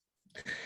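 A single person's sneeze, close and fairly quiet, a short intake then a burst that holds to the end.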